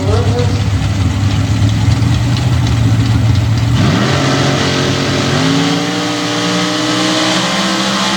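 Big-block super stock drag cars, a 632-cubic-inch Chevy and a 600-cubic-inch Ford, rumble loudly at the strip with a steady droning engine note that shifts pitch midway as revs change, under an announcer's voice.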